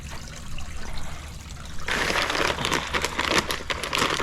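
Tetra Pond Sticks fish food being poured into a pond feeder beside a goldfish and koi pond: a soft rustling pour starting a couple of seconds in, over steady trickling water.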